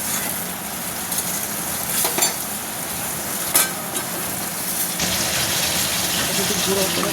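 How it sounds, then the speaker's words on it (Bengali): Red amaranth greens fry in a covered pan, giving a steady, close hiss and crackle that runs unbroken throughout, with a few brief clinks and louder spits. "চাপাটা খুলে দেখো ভাজা ভাজা হয়ে যাচ্ছে"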